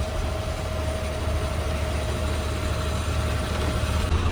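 Steady low rumble of a Bengaluru metro train running, a continuous droning hum with a faint tonal whine, constant and fairly close throughout.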